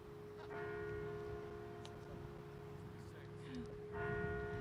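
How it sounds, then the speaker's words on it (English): A church bell rings at an outdoor statue unveiling in Washington, with a few spaced, sustained tolls ringing out over a low background murmur, moderately distant and fairly faint. "I hope you guys never get rid of that bell."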